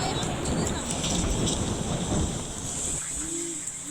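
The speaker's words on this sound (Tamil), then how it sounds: "மழை வேற வந்துருச்சு." Rain pours in a steady, hissing rush with a low rumble of thunder underneath, fairly faint and distant, thinning out toward the end as a brief tonal sound appears.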